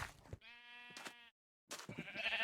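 Sheep bleat in Minecraft, a single clear, nasal, wavering bleat near and moderately loud, framed by brief game sounds before and after.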